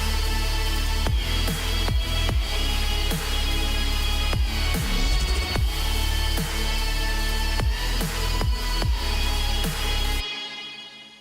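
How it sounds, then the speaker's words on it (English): Melodic dubstep track in Logic featuring a distorted guitar-like lead synth preset over a dense super saw bed, loud and full with punchy drum hits, ending abruptly. "That sound is a really awesome guitar lead type sound."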